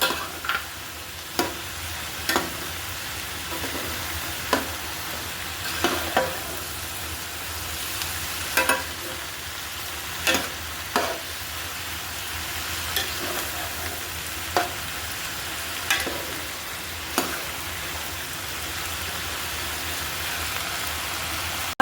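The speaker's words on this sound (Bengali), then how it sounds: "পেঁয়াজ ফুল কিন্তু ভাজা হয়ে গিয়েছে" Onion flowers and sliced green chillies fry in a pan, giving a steady, rain-like sizzle broken by periodic scraping clicks of a spatula stirring, close and even throughout with no talk.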